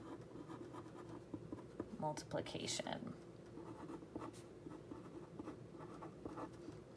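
A pen scratching on paper while working out a geometric multiplication problem, soft irregular scribbling strokes that are heard beneath a person talking and close to the microphone.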